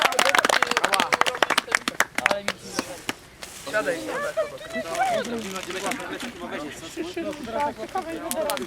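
Clapping for a helper who lit the bonfire at an outdoor Earth Day gathering, a burst of sharp claps in the opening seconds that fades into people chatting close by.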